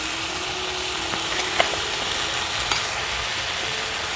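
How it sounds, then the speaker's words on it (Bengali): Spice paste sizzles steadily while frying in a pan for a whole-onion egg curry, a continuous close hiss with a few faint clinks of stirring and no talk. "মশলাটাকে কিছুক্ষণ কষিয়ে নিব।"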